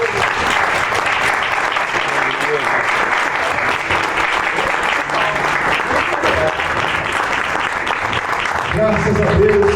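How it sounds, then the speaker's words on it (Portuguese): A church congregation applauds during a pastor's sermon, dense steady clapping from many people throughout, with a voice and some tonal sounds rising beneath it near the end. "Aplauda Jesus por isso"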